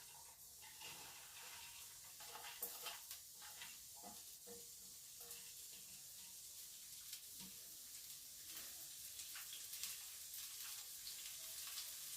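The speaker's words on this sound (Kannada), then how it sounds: "ಹಾಗಲಕಾಯಿ ಇದನ್ನೇಗ ನೀಟಾಗಿ ಎಣ್ಣೆಲಿ ಚೆನ್ನಾಗಿ ಫ್ರೈ ಮಾಡ್ಕೋಬೇಕು" Bitter gourd frying in oil for a gojju dish, with a dense, steady hiss of sizzling throughout, broken by a few light clicks and spatters, close and continuous with no voices.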